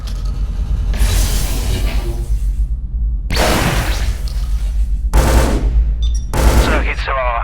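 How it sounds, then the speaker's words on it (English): Video-game gunfire from Scourge: Outbreak as a player blind-fires over a counter from cover: four loud bursts of rapid automatic shots, separated by short pauses and each ending with a faint rumbling tail. "Now reach up and blind fire a few shots over the counter."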